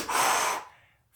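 A forceful breathing exercise: one sharp, loud, close exhalation rushing through for about half a second, then fading quickly before a faint start of another breath.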